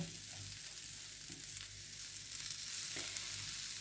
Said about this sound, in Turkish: Alt üstü olacak şekilde kızartıyoruz köftemizi.